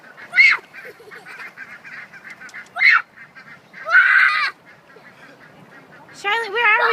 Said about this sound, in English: Are the birds going crazy?